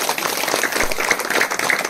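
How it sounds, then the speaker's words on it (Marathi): Dense, steady crowd clapping fills the whole stretch at a community family gathering, a broad continuous wash of many hands without pauses. "इथं टाळ्या वाजवत आहे"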